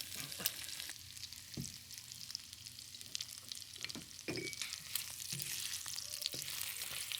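Shrimp brown in a hot wok for a curry stir fry, a steady oily sizzle and crackle punctuated by occasional clanks and scrapes of a utensil against the pan, close but fairly quiet.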